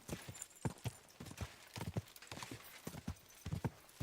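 Rapid clip-clop of galloping horse hooves, steady and fairly close, with a brief whinny mixed in.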